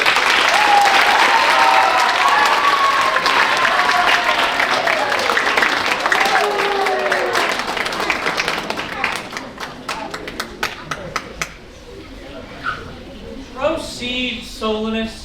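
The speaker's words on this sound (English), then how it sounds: "round of applause for the Comedy of Errors!" A theatre audience applauds loudly for a stage performance of The Comedy of Errors, full clapping at first that thins into scattered claps before voices begin speaking near the end.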